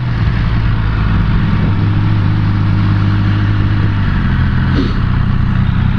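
Ducati Streetfighter V4S sport motorcycle engine held at steady open throttle while braking and turning, a loud, continuous close-up drone with a brief shift in pitch near the end.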